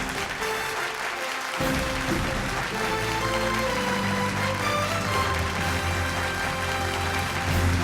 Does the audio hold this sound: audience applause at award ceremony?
yes